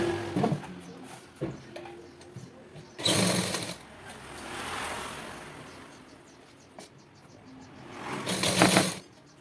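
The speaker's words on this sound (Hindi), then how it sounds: "इसी निशान के ऊपर हम सिलाई लगाएंगे" A sewing machine stitching a piping strip onto a flat collar neckline runs in short loud whirring bursts separated by pauses, with quieter handling noise between runs.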